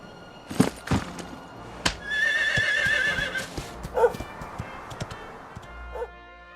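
A horse in Dragon Quest XI whinnies loudly several times, with soft hoofbeats and brief game effects between the calls, and no talking.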